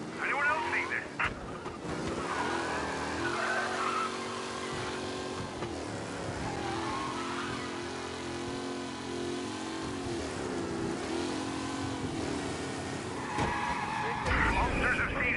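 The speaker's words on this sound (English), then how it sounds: "Officers reporting a race car driving at speed through the city." Race car in Mafia Definitive Edition tearing through city streets, with a revving engine, shifting gear tones and repeated tire squeals and skids, under ongoing radio chatter.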